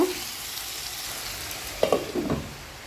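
Papaya pieces frying with spices in a pan over medium-low heat, a steady low sizzle with a few brief stirring scrapes near the end, close and alone.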